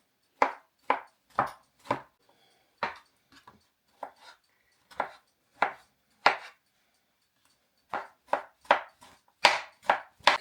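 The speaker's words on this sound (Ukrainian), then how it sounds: "і грибочки ми нарізали" A kitchen knife chops mushrooms on a board in a steady series of crisp, close cuts, pausing briefly mid-way before a quicker run of chops, with no talk.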